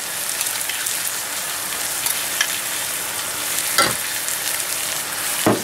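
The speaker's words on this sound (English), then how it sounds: "And then add our tomato sauce." Tomato sauce hits a hot pan of peppers and chile for Vizcaina-style cod, giving a steady close sizzle and frying crackle throughout, with a couple of brief stirring scrapes and no talk.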